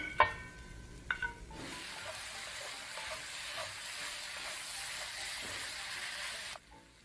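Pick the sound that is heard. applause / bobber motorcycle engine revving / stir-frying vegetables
stir-frying vegetables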